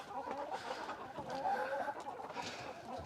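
Farm chickens in a coop cluck and murmur faintly, with a few scattered soft calls rising from quiet background noise.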